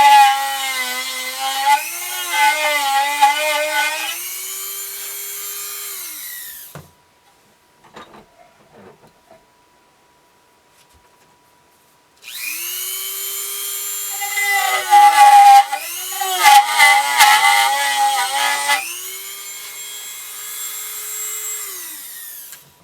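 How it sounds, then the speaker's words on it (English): A Dremel rotary tool cuts into a carved wooden ventriloquist figure, its high whine running loud and close in two long bursts with a quiet gap of small handling noises between them. "now we'll take our Dremel again, and we're going to take some of this out so we can inset the screw"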